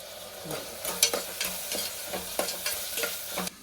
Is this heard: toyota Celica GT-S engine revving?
no